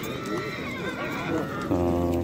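At a livestock market in Özgön, a horse whinnies among the busy noise of the crowd, and a loud, sustained tonal call rises near the end.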